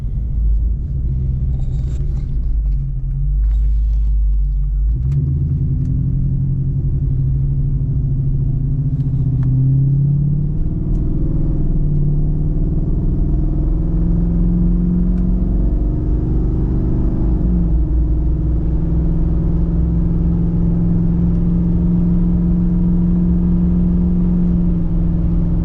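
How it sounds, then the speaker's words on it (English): A Jeep Grand Cherokee WJ with a 4.7 V8 pulls away and accelerates down the road, its engine drone rising in pitch through the gears, loud and steady from inside the cabin with no talking. "Taking off down the road, we're doing 50 here."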